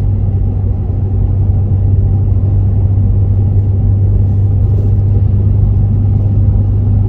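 Steady low engine and exhaust drone from a Cadillac ATS-V cruising on the I-75 highway, a constant mild rumble with road noise that holds even throughout, heard from inside the cabin with no talk.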